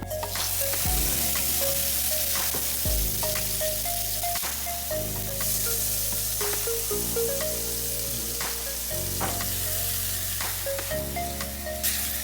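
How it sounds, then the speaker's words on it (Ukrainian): Continuous close sizzling and crackling of onion and tomato frying in a pan, with occasional stirring clicks, over soft background music. "Тепер це все треба обсмажити на сковорідці"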